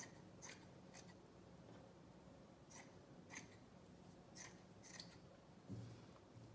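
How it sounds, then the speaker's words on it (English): Scissors snip through a fabric loop to make a strip for a homemade dog toy, giving several short, crisp cuts spaced irregularly over a quiet room background. "Then you're gonna take one side and cut it"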